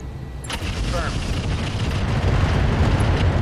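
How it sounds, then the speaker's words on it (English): A Rack 20 ammunition explosion in the Roguetech mech combat game, a loud, sustained, rumbling blast that fills the whole clip and grows slightly heavier toward the end. "And that's a Rack 20 ammo explosion."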